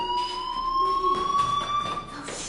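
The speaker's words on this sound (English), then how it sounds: "do you hear that fire alarm? That means you should be outside." A fire alarm rings steadily, its high electronic tone sustained and loud throughout with a slight pitch rise, filling the whole stretch without any voices.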